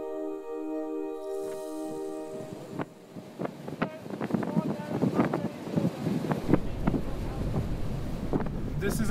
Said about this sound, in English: is an incredibly windy place.